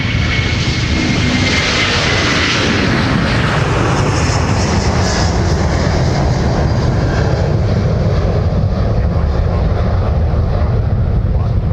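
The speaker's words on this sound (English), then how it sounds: "Delta 258 now getting airborne for Dublin with the A330-200." A Delta Airbus A330-200 heavy jet taking off for Dublin from Minneapolis–Saint Paul airport, a loud sustained engine roar with rushing noise that slowly fades as it climbs away.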